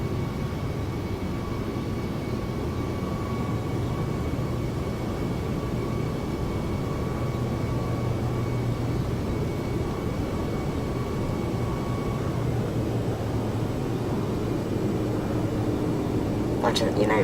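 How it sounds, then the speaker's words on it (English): A Project Airbus A320 in a flight simulator taxiing out toward the runway: a steady, fairly soft engine hum at low power with a faint whine, unbroken and without talk over its full length. "this is the Project Airbus A320. So, let's go ahead and taxi out to the runway."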